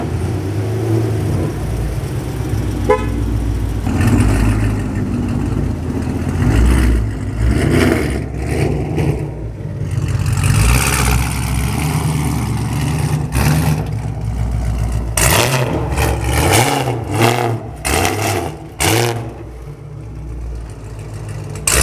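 A 2018 Camaro SS fitted with a bellmouth intake revs hard on a dyno, its loud V8 roar rising and falling through repeated pulls with a steady rumble underneath and no talk.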